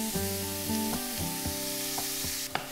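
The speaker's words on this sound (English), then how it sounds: "So we fry until the pork is cooked." Fresh minced pork sizzles steadily in a little oil in a pan, with soft stirring scrapes and a sharper clatter near the end, while a tonal background hum runs throughout.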